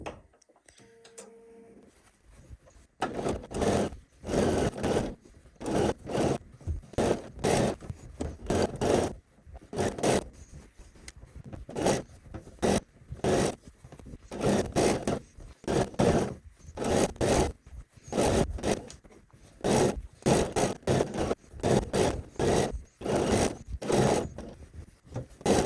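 A sewing machine stitches a facing onto a skirt near the fold, running in rapid mechanical bursts with short pauses between them, close and fairly loud, with faint quiet stretches at the start.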